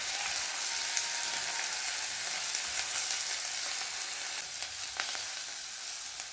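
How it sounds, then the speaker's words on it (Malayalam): Moringa leaves sautéing in a pan for a Kerala curry make a continuous, even sizzle up close, with faint occasional stirring ticks and no talking. "ഇനി അത് നന്നായിട്ട് വഴറ്റി ഒന്ന് വേവിച്ചെടുക്കാം"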